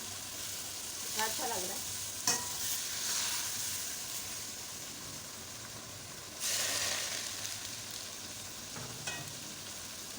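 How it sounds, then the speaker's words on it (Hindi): Hot oil hits mutton keema in a karahi with bursts of crackling sizzle, poured in a little at a time, while a voice speaks briefly. "ये फिर मेरे पास गरम ऑयल है, ये फिर मैं डालूंगी, थोड़ा थोड़ा करके डालना है, एकदम नहीं डालना।"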